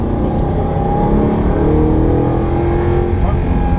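An Audi R8 engine on a circuit drives hard on throttle, a loud, close, continuous roar with rising pitch as it accelerates, while a voice talks over it.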